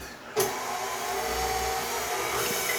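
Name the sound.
stand mixer running at low speed with egg yolks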